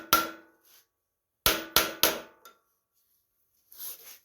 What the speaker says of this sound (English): I put a screwdriver right here, and I took a hammer and tapped on it, pried.